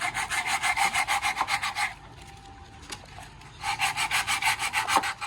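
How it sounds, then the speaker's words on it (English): A sanding block rubs back and forth along a wooden window sash muntin in rapid, steady strokes, close and fairly loud, pausing for about two seconds with a faint tap before the rhythmic scraping resumes. "So what are you doing with a sanding block"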